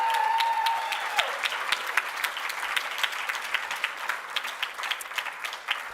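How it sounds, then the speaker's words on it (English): Applause for Dr. Christy Perez at a college awards ceremony: a brief tone cuts off, then a crowd claps steadily, with individual sharp hand claps standing out over the continuing ovation. "Can you get an applause for that?"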